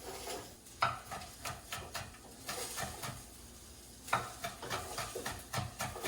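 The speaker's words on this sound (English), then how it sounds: "you want to stir your rice constantly" Rice being stirred as it fries dry in a single pot for dirty rice, with a soft steady sizzle under repeated scraping strokes of a utensil against the pot, close and fairly quiet.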